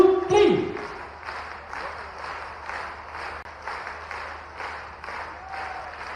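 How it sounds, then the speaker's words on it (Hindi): Crowd clapping at a tribal student award ceremony in Khandwa welcoming Chief Minister Mohan Yadav, heard in rhythmic waves of moderate, somewhat distant applause, opening with a sharp amplified thump and a voice over the sound system. "तालियां एक बार फिर से 1 2 3।"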